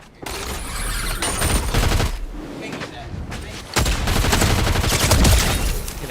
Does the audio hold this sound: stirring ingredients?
no